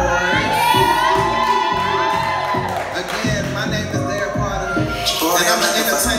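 A live audience at an entertainment show in Columbia, South Carolina cheers, whoops and shouts continuously under loud music, with a host's voice over the crowd noise.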